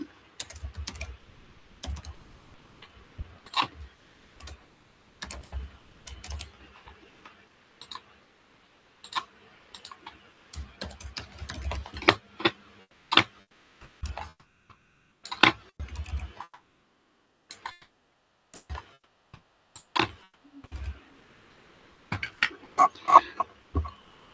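Someone types bicycle order data on a computer keyboard, producing sparse bursts of sharp key clicks separated by pauses, close and clear, with no talking.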